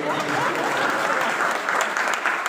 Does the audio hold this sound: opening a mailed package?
no